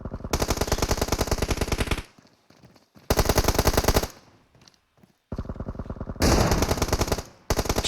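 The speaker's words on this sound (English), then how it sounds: "Shots fired" Rapid automatic gunfire in PUBG Mobile, loud and close, comes in three long sustained bursts separated by short quieter gaps, then a final burst begins at the end.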